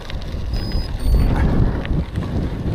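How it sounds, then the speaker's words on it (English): Strong wind buffets a rider while cycling off-road on gravel, a loud, continuous low roar of gusts against the microphone that swells and dips throughout, with no talk. "Oh, bit of wind. Sweet Jesus, that's strong."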